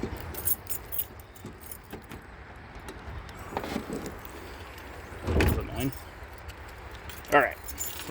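Car keys for a 1990 Volkswagen Golf GL jangle and clink in a hand, a few scattered metallic rattles with a louder shake near the end, and a person talks intermittently over them.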